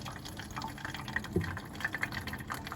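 A thin stream of water trickling steadily from the tap of a reverse-osmosis home drinking water purifier, with small splashes and drips, close by and fairly quiet.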